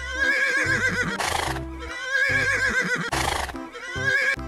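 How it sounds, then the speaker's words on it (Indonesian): A horse neighs loudly and up close, three whinnying calls in a row with rough breathy bursts between them, heard alone with no voices. "Kuda."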